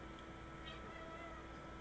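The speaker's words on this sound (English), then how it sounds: "oh, that was my cat." A house cat meows indoors, a short faint cry rising over a steady low background hum, heard alone without any talk.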